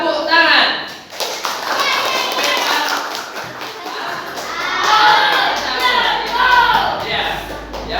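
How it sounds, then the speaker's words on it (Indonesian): Schoolchildren in a classroom clap their hands in a call-and-response clapping game, bursts of claps mixed with children's voices and an adult giving instructions. "Tepuk tangan."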